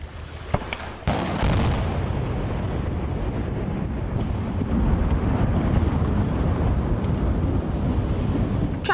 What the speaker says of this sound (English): The 60-foot section of Milton Madison Bridge between Kentucky and Indiana was taken down in an epic but controlled explosion.